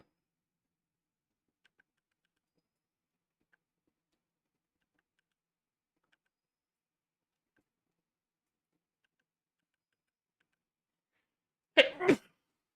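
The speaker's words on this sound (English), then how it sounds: "I sneezed." A single sharp sneeze near the end, close and loud, after a long stretch of near silence with a few faint ticks.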